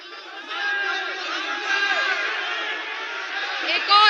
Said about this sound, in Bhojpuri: एक बार पुरजोर तालियां बजा के बताएं कि आप अपनी बेटी के साथ हैं।